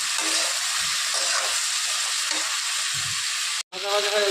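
Vegetables frying in a pan with turmeric and salt, a loud steady sizzle and hiss up close with occasional soft stirring, cut off briefly near the end.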